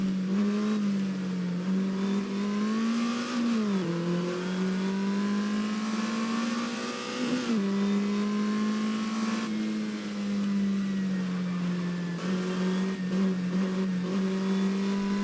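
An Alpine A210 sports car prototype race car drives a lap, its engine droning loud and close with a steady high note, dipping and rising through gear changes and corners.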